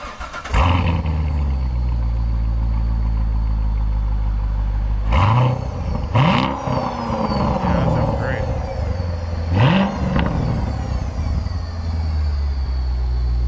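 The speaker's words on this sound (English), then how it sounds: "go ahead and start it up. Give us some revs, dude. Let me hear what it sounds like." A Corvette C7 Z06 engine fires up loudly and settles into a heavy idle, then is blipped three times with sharp rising revs, each falling back to a rumbling idle.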